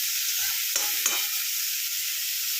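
Onion and beetroot frying in a pan, a steady bright sizzle with two short scraping stirs of a spoon, close up and alone.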